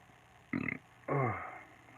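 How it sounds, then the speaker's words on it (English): A man's burp during a relaxed pencil-and-ink drawing session: a short guttural burst followed by a longer, louder, croaking eructation, close and alone with no talk. "that was a burp."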